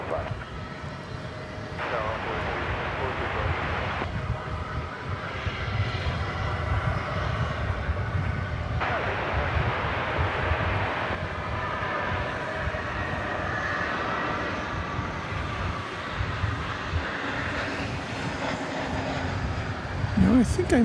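A UPS cargo plane's engines warm up at DFW airport, a steady broadband jet roar heard from nearby, continuous and fairly loud throughout, with people talking over it at times.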